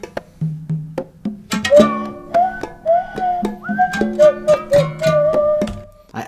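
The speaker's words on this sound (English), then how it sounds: "so I just went in and I added a conga part." Conga hits join a goblin-themed song, tapping rhythmically beneath a reedy tin harp melody and plucked bass line, all close and clear with no talking.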